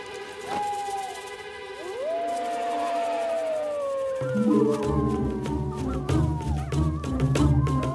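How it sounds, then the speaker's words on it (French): Wolves howling in a cartoon: a long rising-and-falling howl carries over a musical score, joined by further wavering howls as the music builds. "ce sont juste les loups qui chantent"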